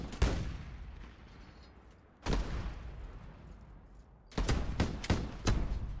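Video game battle gunfire: single sharp shots crack out with long ringing decays, followed by a quicker cluster of shots near the end, loud and close with no speech over them.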